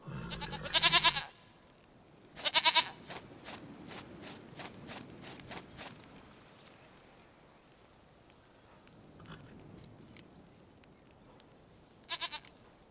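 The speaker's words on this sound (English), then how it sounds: "Goat of mine, dearest, sweetest goat." In The Witcher 3, a goat bleats loudly twice in short wavering bursts, followed by soft rhythmic hoof steps and a faint third bleat, with quiet ambient background between calls.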